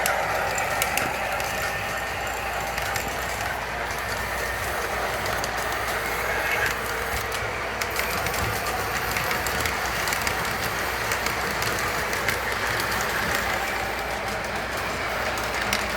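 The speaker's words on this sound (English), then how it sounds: "Of course, I couldn't resist running a train tonight." A small model train runs continuously along its track, with steady rattling clicks and a rolling mechanical whir at close range.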